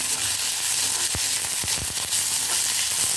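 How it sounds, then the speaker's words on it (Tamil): Onions sauté lightly in a hot pan, a constant close sizzle with a few sharper crackles and pops partway through, no voices. "வெங்காயம் ரொம்ப வதங்க வேண்டாம், லேசாக வதங்கினாலே போதும்"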